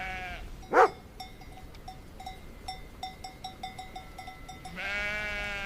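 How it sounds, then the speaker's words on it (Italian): A sheep gives a loud bleat in Italian woodland pasture, followed by a sequence of soft, rhythmic clinking tones, then another wavering bleat at the end. "la pecora"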